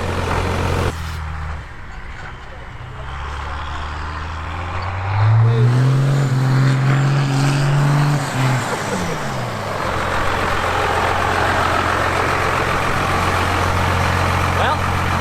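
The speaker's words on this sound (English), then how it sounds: "Look at that one wheel peel all the way up the mountain." A Toyota Tacoma in two-wheel drive claws up a steep mountain slope with one wheel spinning, its engine droning steadily and rising in a strained whine midway, while people talk and shout nearby.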